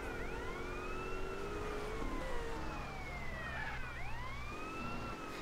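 A police car siren wails in the zombie video game Zombie Andreas, sweeping up and down repeatedly at a moderate distance over steady background game noise.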